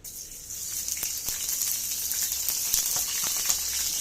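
Chopped onions and green chillies hitting hot oil in a pan for a dried lotia fish bhuna, giving a steady close sizzle with a few sharp crackles and spatters throughout.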